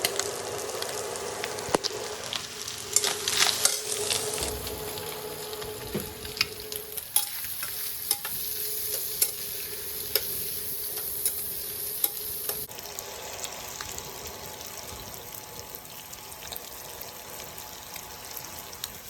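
Spices sizzling in hot oil in a pan while being stirred for a noodle dish, a steady close crackle with occasional scraping stir strokes and a brief louder hiss early on.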